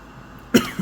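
A single sharp cough bursts out close to the microphone after a quiet room hush, followed by a smaller throat sound at the end.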